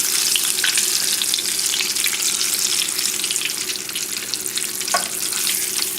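Creole-style popcorn shrimp frying in hot oil, a dense continuous crackling sizzle heard up close with scattered sharp pops and a faint metallic clink.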